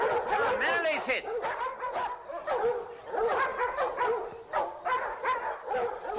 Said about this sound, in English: Nice dogs, nice dogs, nice dogs.